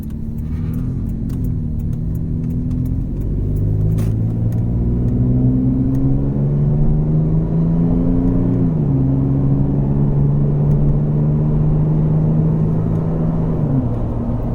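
A Toyota 4Runner fitted with a Flowmaster Super 40 series exhaust, heard from inside while driving: a steady, deep engine rumble rises in pitch as it accelerates, drops at a gear change, then climbs again.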